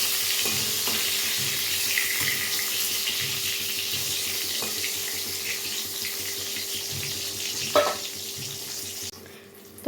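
Eggplant slices frying in hot oil in a pan make a steady, close, broadband sizzle lasting several seconds, with occasional faint clinks before the hiss drops away at the end.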